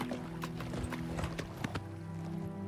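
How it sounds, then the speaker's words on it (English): Quick clip-clopping horse hoofbeats with a synthetic, game-like tone over a low droning backdrop, a brief whinny mixed in, from The Elder Scrolls IV: Oblivion Remastered. "The horse sound does not look right"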